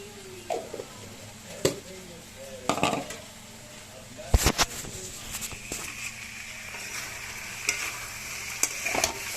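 Curry with potatoes being stirred in a pan, with scattered spoon scrapes and clinks against the pan over a low sizzle, close and fairly quiet.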